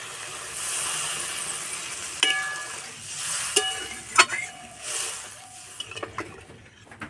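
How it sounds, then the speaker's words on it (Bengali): Water is poured into a hot pan of fish-roe kofta curry with fried potatoes, setting off a loud sizzling hiss broken by sharp scrapes of stirring. "এবার জল দিয়ে দেবো"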